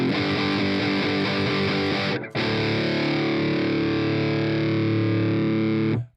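Heavily distorted metal electric guitar run through an Orange amp into a MESA in AmpliTube 4 software, loud sustained chords with a brief cut after two seconds, then one long ringing chord that stops abruptly.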